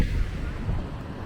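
Strong wind on a seaside boardwalk from Leblon to Ipanema buffets the microphone, a low rumbling roar that persists throughout the short moment.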